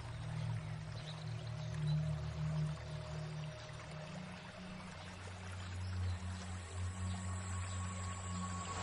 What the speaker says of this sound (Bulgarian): Ето е реката.